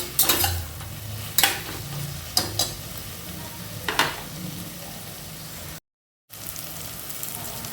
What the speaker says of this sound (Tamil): புதினா கொஞ்சம் வதங்கி வரணும், அதை மிக்ஸ் பண்ணலாம்.